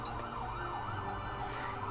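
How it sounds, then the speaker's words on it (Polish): An ambulance pulls up outside an apartment block with its siren wailing in slow rising and falling sweeps, muffled and somewhat distant through walls over a low hum. "właśnie chyba pod mój blok podjeżdża karetka"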